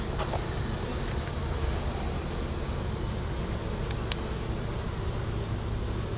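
Bees hum around an open beehive during a summer inspection of a weak colony, a steady, dense drone with a high constant whine above it and no speech.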